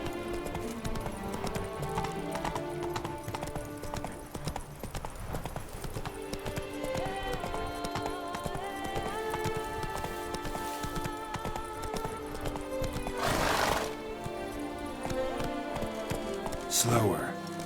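A horse clip-clops at a steady trot and gallop in The Witcher 3: Blood and Wine, rhythmic hoofbeats running under light game music with brief whinny-like sounds near the end.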